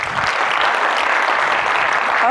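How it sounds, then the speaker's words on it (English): Conference audience applauds after a talk introduction on message-based microservices architectures, a dense, even burst of clapping from many hands filling the room for a couple of seconds. "So another round of applause"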